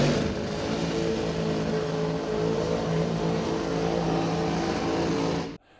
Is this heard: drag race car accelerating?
yes